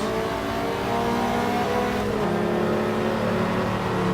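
Ferrari 288 GTO turbo engine in Assetto Corsa accelerating hard, a loud steady roar with rising harmonic pitch, a brief gear-shift dip near the middle, then climbing again.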